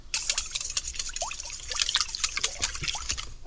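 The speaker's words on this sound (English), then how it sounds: "And time to whisk." Six eggs and evaporated cream are whisked together for a salmon frittata custard, giving a quick, steady run of close, wet sloshing clicks in a bowl, with no talking.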